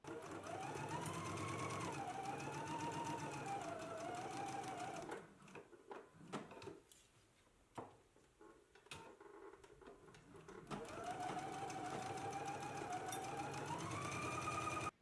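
A sewing machine stitches collar pieces in rapid, even runs. It stops briefly in the middle while small clicks and handling sounds are heard, then starts whirring again close by.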